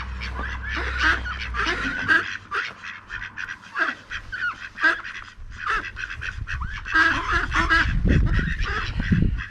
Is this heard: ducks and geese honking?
yes